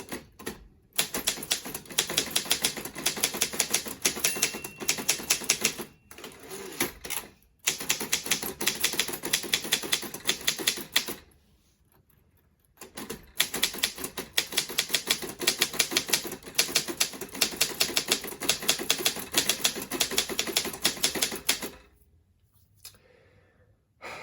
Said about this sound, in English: I'll keep typing so you can hear that lovely bell that's in just great shape.